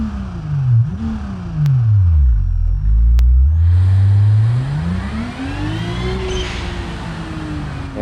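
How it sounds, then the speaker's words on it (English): A car engine in BeamNG revs and drops in sweeping swells, then climbs steadily as the turbo spools and boost builds, with a thin whine riding above the loud, close engine drone. "you hear that turbo start sucking air, and then all of a sudden that boost goes up and we start moving"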